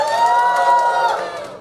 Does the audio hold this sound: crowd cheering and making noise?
yes